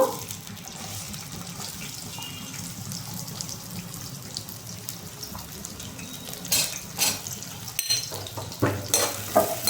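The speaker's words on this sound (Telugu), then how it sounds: "ఇప్పుడు నూనె వేడెక్కింది ఫ్రెండ్స్ పెద్దలిపాయలు వేసుకున్నాము" Sliced onions in hot oil sizzle softly in a pan for fish pulusu, a low continuous frying hiss with a few louder stirring scrapes and clinks near the end.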